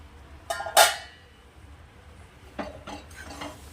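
Lid lifted off a pot of cooking mango chutney made with jaggery, two sharp metallic clinks close together, followed a moment later by a few softer clatters of metal against the pot.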